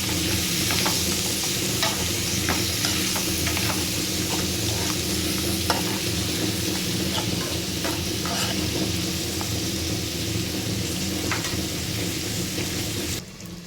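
Chicken liver curry is stirred firmly in a pan over steady frying sizzle, with the spoon scraping and clinking throughout; the sound stays close, even and unbroken, with no talking.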